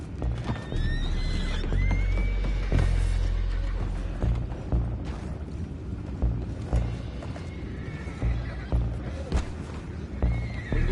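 Horses whinny and neigh several times over steady hoof clip-clops in Red Dead Redemption 2, with creaking mechanical noises and a busy, continuous background throughout.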